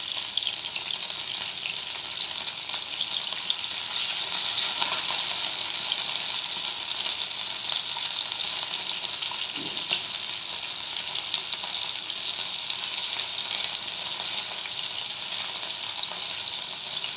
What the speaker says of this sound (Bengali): এইভাবে সবগুলো আমি দিয়ে দেবো, এর মধ্যে ভেজে নেবো আর কি।